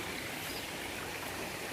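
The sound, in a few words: Ulakkai waterfall stream flowing, Kanyakumari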